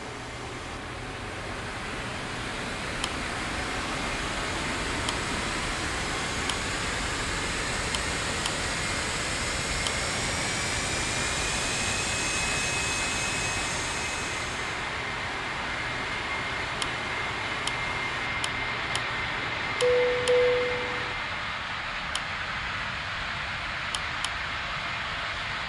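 Boeing 777 jet engines spool up during startup in Real Flight Simulator, a steady broadband rushing roar that builds and holds for the whole stretch, then eases a little near the end, with no voices over it.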